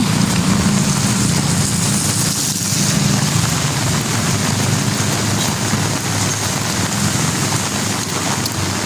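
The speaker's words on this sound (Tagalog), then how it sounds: "Lalong lumalakas yung ulan." Heavy rain pours down steadily on a dark day in Eastern Samar, a loud, dense wash of drumming drops that stays strong and unbroken throughout.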